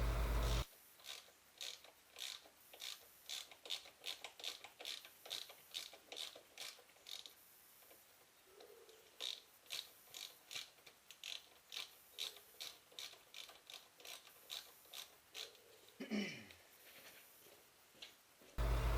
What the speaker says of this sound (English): he's going to break the cinch bolts free on his forks